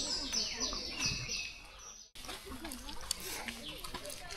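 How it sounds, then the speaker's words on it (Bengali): Birdsong with chirps and tweets fills a forest trail near Pelling, Sikkim, in the rainy season, a busy chorus of calls over steady ambient noise, briefly cutting out midway. "অসংখ্য পাখির কোলাহলকে সঙ্গী করে এই ছোট্ট ট্রেলটা সত্যি অনবদ্য"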